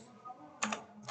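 Keyboard keys pressed for a Ctrl Shift plus zoom shortcut on a computer, heard as a few close, soft clicks in a quick cluster, then one more tap a moment later.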